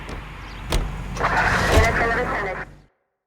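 A car in L.A. Noire running under a voice, with a couple of thumps and a rising motor-like whir before it cuts off abruptly.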